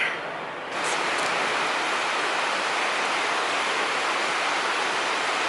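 Heavy rain falls in Vietnam in an unbroken roar, beginning with a brief quieter moment before settling into a steady, close wash of noise.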